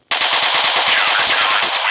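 Rapid automatic gunfire in Counter-Strike 2, a loud, close, continuous burst of evenly spaced shots that starts abruptly and runs nearly two seconds.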